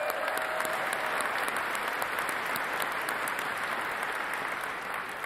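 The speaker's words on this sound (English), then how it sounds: "another round of applause for Josephine." A conference crowd in Amsterdam applauds Josephine, a sustained, even roar of many hands clapping that carries on for several seconds without pause or speech.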